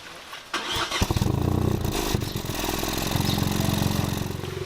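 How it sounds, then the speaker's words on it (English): A 2019 Mk8 Ford Fiesta ST engine cranks and fires up, then settles into a loud, throaty idle with a deep rumbling exhaust, recorded close by. "That was the start up of the car."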